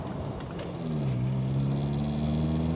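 A 1980 Ford Fiesta Supersport, 41 years old with 10,000 miles, revs as it pulls under way, a steady loud engine drone climbing slightly in pitch, no voices.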